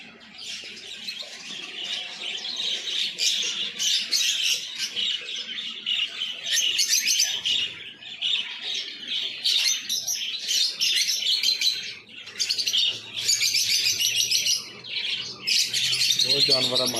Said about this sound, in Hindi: लक्के कबूतर है जी अपने जो पाकिस्तान होंगे